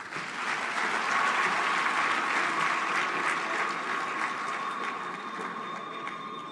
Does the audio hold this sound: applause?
yes